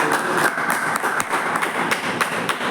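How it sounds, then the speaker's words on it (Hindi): Audience applause for an upline speaker at a live product demonstration, a steady dense patter of many hands clapping throughout, with scattered sharper individual claps standing out. "मिस्टर SD यादव जी के लिए जोरदार तालियां"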